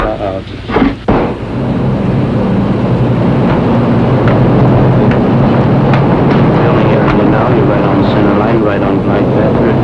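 A 1950-era airplane approaching the end of a runway to land: a loud, steady, broad engine roar that fills the whole stretch, with a few heavy thumps near the start and no clear speech.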